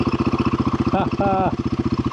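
A Royal Enfield Guerrilla 450 motorcycle idles nearby with a rapid, even thumping pulse, while a person talks over it briefly in the middle.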